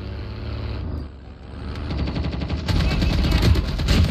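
Automatic gunfire in the mobile shooter Call of Duty Mobile, starting softer then swelling into loud, rapid continuous bursts with rumbling low end, close and intense.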